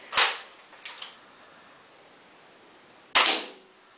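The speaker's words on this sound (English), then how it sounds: "This is a Nerf gun that I got for Christmas." Two sharp snapping shots from a Nerf gun fired at a target on a patio door, with a faint impact between them and quiet gaps around them.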